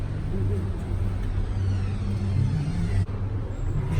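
A car on the road to Canterbury, heard as a steady low engine and road rumble from inside the vehicle, continuous and moderately loud with no clear breaks.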